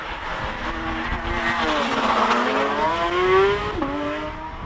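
A Porsche GT3 RS race car at a King of the Mountain hill climb in Cape Town, its engine note climbing and falling through gear changes as it passes close and loud, with a brief tire squeal and no talk.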